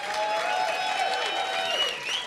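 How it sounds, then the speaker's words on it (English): Audience at a university Norooz celebration breaks into a brief, energetic round of clapping with scattered cheers and whistles. "Guys, give Mohsin a big round of applause."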